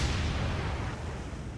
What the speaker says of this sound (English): Massive secondary explosion over there.